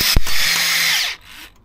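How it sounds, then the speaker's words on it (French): A drill bores out a snapped bit lodged in a Moto Guzzi V7 motorcycle part, a loud close whining grind lasting about a second before winding down. "Là, on est en train de percer la mèche."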